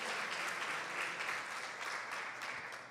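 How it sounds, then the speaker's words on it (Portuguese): A church congregation claps together in praise, a dense, steady wash of applause at moderate distance lasting the whole few seconds with no voices standing out. "Vamos aplaudir ao Senhor."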